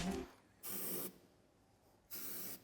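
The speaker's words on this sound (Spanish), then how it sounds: "le echaremos un poquito de aceite lubricante" Lubricating oil sprayed from an aerosol can onto the tow hitch threads of a Hyundai Ioniq Hybrid, two distinct short hissing bursts with a pause between, close and fairly loud, no voices.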